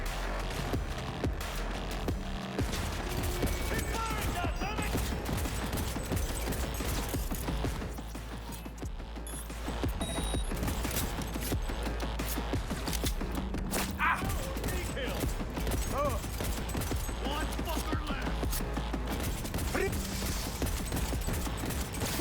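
Gunfire in the video game Cyberpunk 2077, a dense, nonstop barrage of shots over a loud, busy game mix that runs the whole time with no break, with no talking over it.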